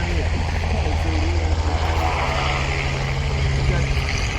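A competition model aircraft in flight at a championship, its small engine and propeller giving a steady, loud buzzing drone, with people talking nearby.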